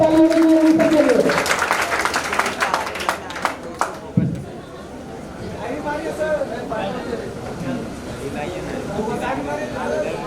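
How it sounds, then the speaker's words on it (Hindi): An indoor crowd at a school prize distribution ceremony claps in a burst that thins out, with chatter and a voice over a speaker system. "जोरदार तालियां दीजिए रवि सर के लिए।"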